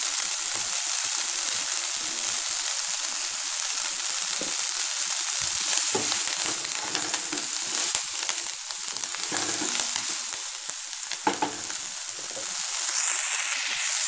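Vatha narayanan greens sputter and crackle in hot oil, a dense steady sizzle with scattered sharp pops running throughout, close and fairly loud with no talking.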